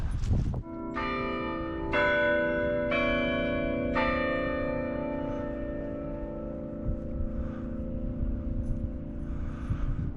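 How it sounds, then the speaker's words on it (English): Bell tower at Furman University chiming, with several loud, resonant strikes about a second apart that ring on and decay slowly into a long, fading hum, heard alone outdoors. "This thing chimes every 15 minutes."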